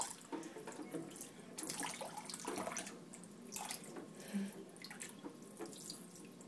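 Tap water runs steadily into a baby's bathtub with a faint, continuous splashing rush and small irregular drips. It stays low and even throughout without any voices.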